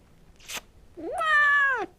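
A sick 16-year-old cat, ill with pancreatitis and a heart condition, gives one clear, drawn-out meow that rises and then falls. A short soft sound comes just before it.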